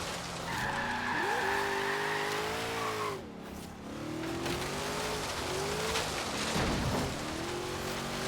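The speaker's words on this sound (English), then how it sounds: "There we go, got a drift tap." A car drifting in Forza Horizon 3, tires squealing in long wavering screeches as the engine revs rise and fall, loud and close with a brief dip midway before the squeal resumes.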